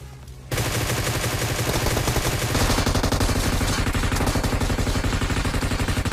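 Automatic M249 gunfire in PUBG Mobile sounds as dense, rapid bursts that start abruptly after a brief quiet moment and keep rattling loudly and steadily to the end, with no talk.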